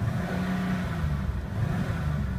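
1999 Subaru Legacy B4 RSK twin-turbo engine revving, a steady, loud mechanical roar with a low rumble that stays level with no speech over it.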